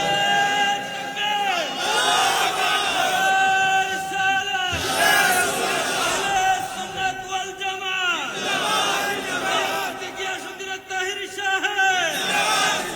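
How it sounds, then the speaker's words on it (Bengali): A crowd gathered for a religious speaker's sermon shouts a slogan in unison, loud and close, in repeated rhythmic bursts of many voices. "একটা স্লোগান দাও।"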